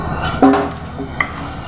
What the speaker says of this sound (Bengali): দেখো আলুগুলো ভাজা হয়ে গেছে।